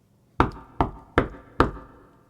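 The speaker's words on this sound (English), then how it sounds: "Just then, he heard a knock on the door." Four firm knocks on a wooden door, evenly spaced and close, each a sharp thud with a short decay, with no other sound around them.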